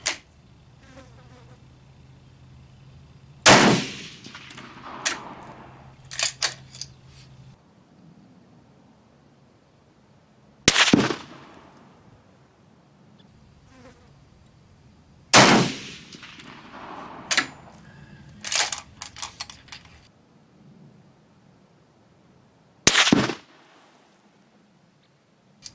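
Rifle shots from a Steyr fire test handloads at an outdoor range: four sharp, loud cracks several seconds apart, each followed by clicks and handling noise, with insects buzzing faintly between shots.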